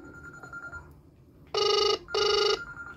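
Incoming Bluetooth call on a smartwatch rings in two loud electronic bursts of trilling tone, separated by a short gap, over a faint background.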